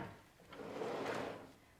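A drawer in a shop-built table saw storage cabinet for a SawStop contractor saw slides open or shut, a single soft rumbling glide that swells and fades, fairly quiet with no voices.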